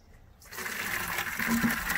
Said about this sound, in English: I can fill up a 5-gallon bucket in no time.